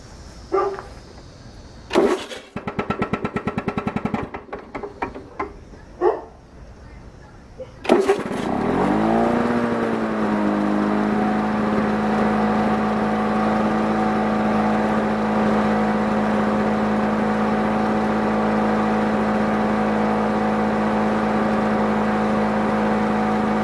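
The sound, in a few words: Lawn-Boy lawn mower engine pull-started and running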